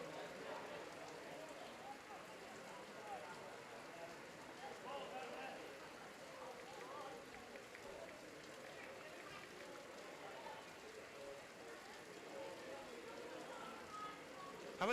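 Rain pours steadily at a football ground during a Stocksbridge Park Steels versus Brighouse Town match, a constant soft hiss of falling water lasting the whole stretch, faint and even without clear individual drops.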